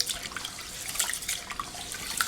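Tap water running while rice is washed for pongal, a steady soft splashing stream with light trickles, faint and close, no talk.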